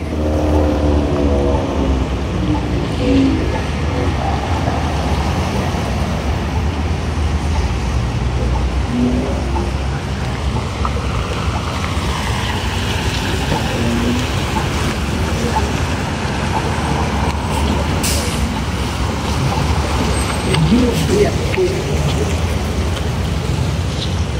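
Continuous street traffic at a road crossing in Canada, with cars passing and engines rumbling steadily throughout. A person talks over the traffic.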